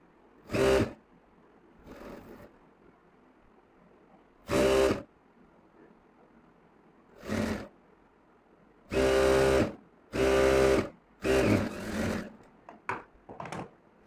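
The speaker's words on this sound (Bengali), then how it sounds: "এই পকেট সেলাই দিয়ে দিচ্ছি" A sewing machine stitches a pocket onto boys' trousers in a series of separate whirring runs, some short and some longer, with quiet pauses between them, close and clear.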